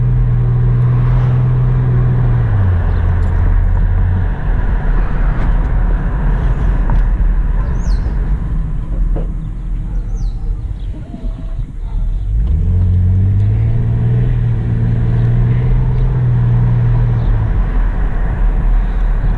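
A 2008 Buick Enclave engine with about 150K miles and a late throttle response revs up twice, a loud close rumble rising and holding, dipping back near idle in between.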